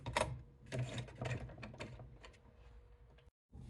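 Home sewing machine running a short back stitch on a ribbon tutu anklet, with several brief mechanical bursts of stitching close by, then a pause and a short restart.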